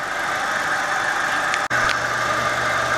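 Audi A4 Quattro 2.0L FSI engine running at idle, a steady close mechanical hum with a brief cut midway, after which a low drone rises beneath it.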